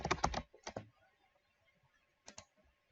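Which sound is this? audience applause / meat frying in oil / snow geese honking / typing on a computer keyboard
typing on a computer keyboard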